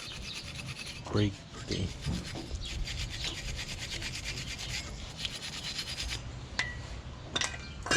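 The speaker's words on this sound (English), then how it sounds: "we're gonna wire wheel this clip in here" A wire wheel scrubs and grinds against a brake pad clip on a Silverado brake job, a close, continuous raspy rubbing with a few sharper scrapes, while someone speaks briefly.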